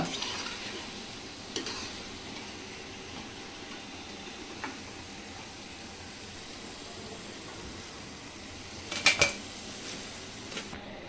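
Alu vadi (colocasia leaf rolls) frying in hot oil give off a steady, soft sizzle close by. A few sharp utensil clinks land near the end, and no one speaks.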